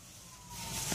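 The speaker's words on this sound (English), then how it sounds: "That's the sound of the ambulance." A passing ambulance siren outdoors, a brief steady wail that swells louder toward the end of a one-second stretch with no talking.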